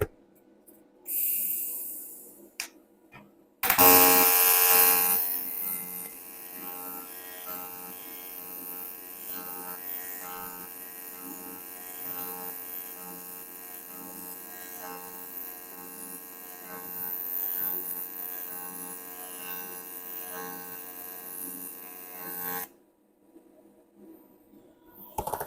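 A Balmer Joy TIG 230P inverter lays an AC TIG bead on aluminum, giving a steady buzzing arc hum that runs for about twenty seconds after a sharp start and then stops.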